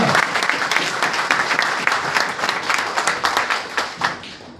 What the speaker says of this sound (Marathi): सरांसाठी जोरदार टाळ्या झाल्या पाहिजे